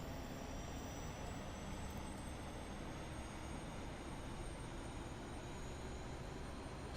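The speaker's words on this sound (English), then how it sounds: "once the APU fires up, the APU generator will automatically kick in" An Airbus A320neo auxiliary power unit running outside the aircraft gives a steady, faint, broadband whine and rush with a thin high tone, unchanging and continuous, with no voices.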